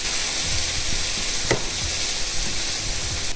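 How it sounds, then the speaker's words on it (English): Pre-cooked meatballs and zucchini noodles fry in butter in a pan over high heat, giving a loud, close, steady sizzle with soft clinks and stirring scrapes underneath and one brief sharper knock midway. "I went ahead and just threw the meatballs in the pan"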